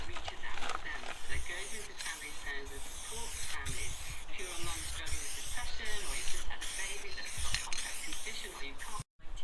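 Aerosol rattle can spraying paint onto car body panels in a garage, a steady hissing spray in repeated bursts with brief pauses, close and loud.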